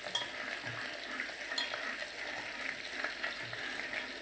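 Potato curry being stirred in a pan over a low gas flame, a soft steady sizzle with faint scraping strokes of a spoon at irregular intervals, quiet and close, no voices.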